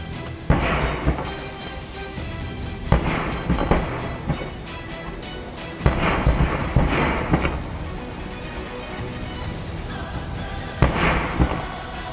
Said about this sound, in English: The impact caused the gas cylinders to explode in succession, creating massive fire columns